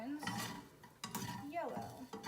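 Tofu being stirred in a pan as yellow seasoning is mixed through, giving close scraping and shuffling strokes with a soft sizzle underneath, in a few bursts over a couple of seconds.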